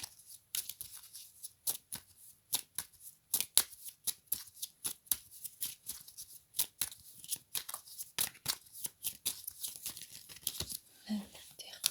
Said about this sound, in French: La carte est retournée. Allez, je coupe.